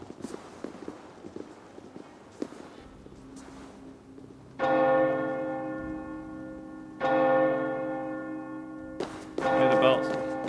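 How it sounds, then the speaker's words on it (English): Church bells ring in an Assassin's Creed Valhalla scene. Footsteps and rustling come first, then two loud, long bell strikes that ring out and fade, and a third begins at the end. "Hear the bells."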